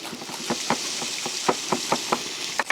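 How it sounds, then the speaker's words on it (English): Finely chopped bacon frying quite hot in a pan for a burger mix, with a steady close sizzle broken by a dozen or so sharp spitting pops at irregular intervals. No voices. "When you chop it this small and you fry it quite warm, it's apt to sometimes spit a little bit"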